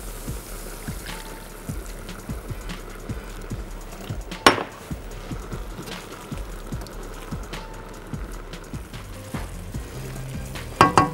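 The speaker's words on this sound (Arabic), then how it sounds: "هنزل بقى عليها المرقة." Broth going into a hot pan for shrimp pasta with tomato sauce, a steady crackling sizzle with small scattered pops and the occasional clink of a utensil against the pan, no talking.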